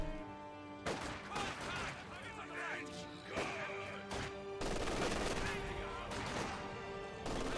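Gunfire and crashing battle noise from the strategy game Company of Heroes 2, with penal squads firing on a pioneer; dense, continuous bursts and impacts fill the whole stretch, mixed with a commentator talking.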